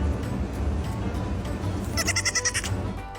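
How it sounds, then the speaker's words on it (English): A goat bleats several times in quick, wavering pulses, loud and close, over a steady low outdoor rumble, with no talk. "It's a goat."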